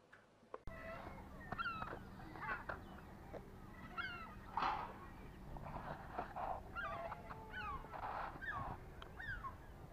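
Ducks and geese call at a boating lake duck pond, scattered quacks and honks at varying distances over soft outdoor ambience, with a brief knock at the start.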